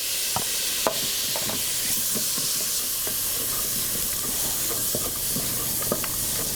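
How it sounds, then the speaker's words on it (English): Diced sweet potato going into a pan of cooking sweet potato and spinach curry, giving a steady close hiss of simmering and frying with scattered soft clicks and scrapes of stirring, and no talking. "we're going to add some cut up diced sweet potato"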